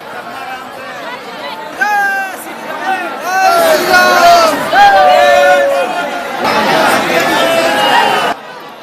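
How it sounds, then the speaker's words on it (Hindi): A large crowd of devotees at Hanumangarhi temple in Ayodhya, with many voices chattering and calling out together in a loud, close babble that swells and dips before cutting off. "अयोध्या में स्थित हनुमानगढ़ी मंदिर पर भक्तों की भारी भीड़ दर्शनों के लिए उमड़ी है"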